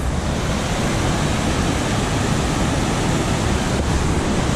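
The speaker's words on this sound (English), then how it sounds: "This is the most picturesque waterfall I've ever seen in my life." Waterfall on a Grand Teton hike, a steady broadband roar of falling water that stays loud and constant throughout, with no voices.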